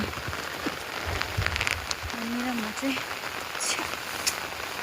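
Steady rain patters on surfaces around a village hill path as people walk through the downpour, and someone speaks briefly over the continuous hiss of the rain.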